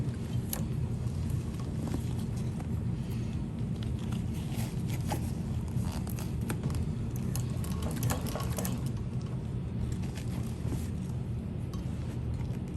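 A sewing machine runs slowly through the layers of a tote bag strap connector with the needle positioner set to stop down, giving a steady close mechanical hum with light ticking and clicking over it, and no talking.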